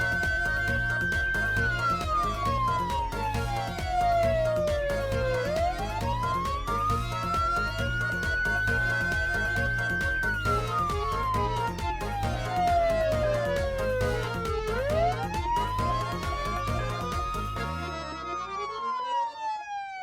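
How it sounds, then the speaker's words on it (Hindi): Electronic alarm from a hidden machine, a loud wailing siren-like tone sweeping up and down in long repeating cycles for the whole stretch before cutting off near the end. "पता नहीं रात को कौन सा ऐसा मशीन लगा दिया, तब से अलार्म बज रहा है।"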